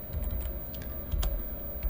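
Rapid, uneven clicking of keystrokes on a computer keyboard while entering spreadsheet formulas, close and steady over a low background hum, with one sharper key strike near the end.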